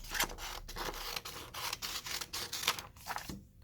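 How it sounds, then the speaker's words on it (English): Scissors cut paper along a line in a series of short, quiet rhythmic snips and rustles at close range, with no talking. "Then you're going to cut down here along this bottom line."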